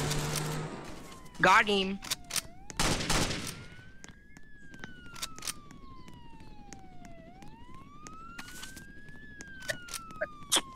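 Gunfire in Roblox Jailbreak during a bank and jewelry store robbery, with a few sharp bursts of shots early on and a police siren wailing steadily afterward, under a player's speech.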